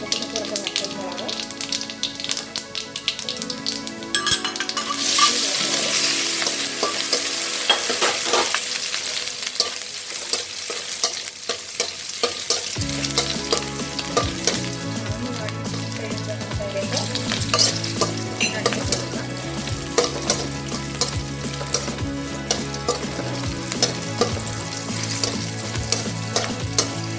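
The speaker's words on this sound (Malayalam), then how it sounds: "ആദ്യം കടുക് ഇട്ട് കൊടുക്കാം. അതിലേക്ക് ജീരകം ഇട്ട് കൊടുക്കാം." Mustard seeds and cumin sizzle loudly in hot oil for a coconut rice dish, a steady crackling fry with stirring, and background music is faintly audible underneath.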